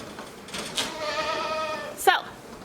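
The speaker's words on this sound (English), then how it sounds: "They're smart little goats, and they're good, but they're just a little bit smaller" Goats bleat on a farmstead goat dairy in Oregon during premilking chores, a sustained harmonic bleat in the middle and a sharper short cry near the end, heard close over barn ambience.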